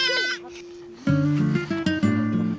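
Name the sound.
goats bleating at a Mongolian nomad camp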